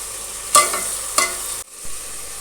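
Mutton frying with garlic ginger paste in a pan, a steady sizzle with two sharp stirring scrapes, close and loud, then the sizzle briefly cuts out and resumes more quietly.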